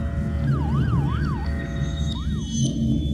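An ambulance siren wails in smooth rising and falling sweeps, loud and steady over a low rumbling drone, with no talk.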